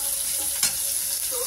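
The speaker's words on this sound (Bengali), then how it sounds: "এই যে পরোটাগুলো ভাজবো এবার" Parathas fry on a tawa with a soft, even sizzle and one brief scrape partway through, close and quiet with no talking.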